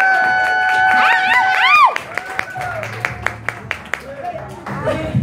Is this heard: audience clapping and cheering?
yes